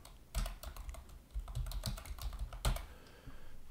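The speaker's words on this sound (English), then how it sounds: "let's type in, say, intro." Quiet typing on a computer keyboard, with a few separate clusters of quick key taps and short pauses between them, close and soft with no talking.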